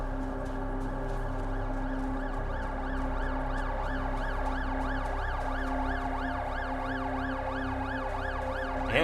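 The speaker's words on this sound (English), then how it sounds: "Ambulance?" Ambulance siren in the video game Death Stranding 2, a steady wailing up-and-down cycle that repeats evenly, moderately loud over a low background hum, with no voices.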